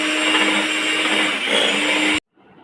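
Electric beater whirring steadily and loudly through homemade ice cream mixture, the motor tone dipping briefly midway before it cuts off abruptly, leaving near silence.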